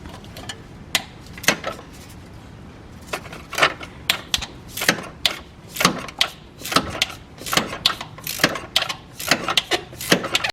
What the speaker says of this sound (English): So now I'm going to loose them out with a 10mm deep socket.